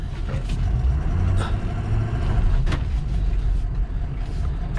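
A 2003 Ford F250 diesel truck rolls along in 4x4 low range, a steady low engine rumble heard from inside the cab with light rattles and clunks, no talking.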